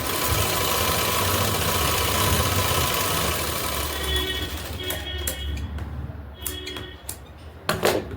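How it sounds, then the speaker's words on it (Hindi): An electric sewing machine runs a double stitch along a kurti, a steady mechanical whirr for most of the stretch that breaks into short stops and uneven bursts near the end. "इस पे हम डबल सिलाई लगा लेंगे"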